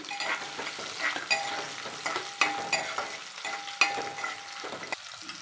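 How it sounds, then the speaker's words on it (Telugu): Cumin seeds, green chillies and onion pieces sizzle in hot oil for a tomato omelette curry. Continuous close frying hiss runs under light stirring taps and scrapes of a spoon against the pan, with no voices. "ఆయిల్ వేడయ్యాక కొద్దిగా జీలకర్ర పచ్చిమిర్చి ఉల్లిగడ్డ ముక్కలు వేసుకోవాలి"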